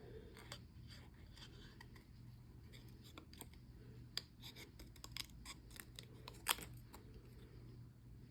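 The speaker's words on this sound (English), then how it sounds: "And I'm gonna actually fussy cut this." Scissors fussy cutting around a stamped design on paper for a handmade wreath card, giving a close, quiet series of small crisp snips and paper rustles at an irregular rhythm, with no talking.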